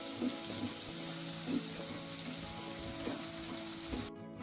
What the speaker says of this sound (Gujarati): થોડી હિંગ અને લસણ અને લીલા મરચાંનો વઘાર કરી દઈશું અને આને થોડી અડધી મિનિટ સુધી સાતળી લઈશું